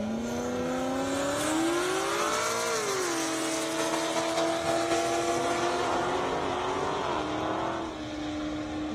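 Race cars, including a Corvette and a Porsche 911 Turbo, run on an airstrip track. A loud, close engine revs up through the gears and its pitch sweeps as it accelerates, then it holds a steady, strained drone.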